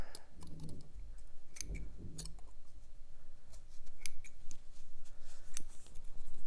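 Scissors snip through yarn while trimming a small pom-pom, a few sharp close clicks and cuts spread across the clip with quieter rustling between them.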